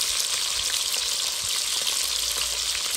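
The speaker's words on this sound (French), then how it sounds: "Alors, là, je vais mettre les oignons." Onions hit a hot pan and sizzle loudly, a steady bright frying hiss with small crackles and pops throughout, no voices over it.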